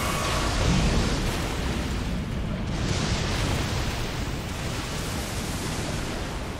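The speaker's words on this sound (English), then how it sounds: "There's no way for me to avoid the explosion there." A blast rolls through an Elden Ring boss fight, a broad, sustained roaring rumble that stays loud and dense throughout, like a long continuous eruption with no voices over it.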